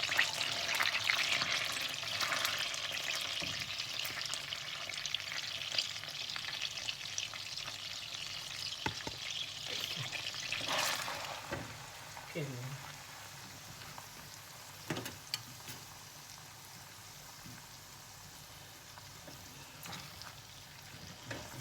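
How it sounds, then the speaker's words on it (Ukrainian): Steady sizzling and crackling of onion frying in melted butter in a pan, loud at first then settling, with occasional clinks of a utensil stirring. "коли в нас масло розтопилося, ми кидаємо цибулю"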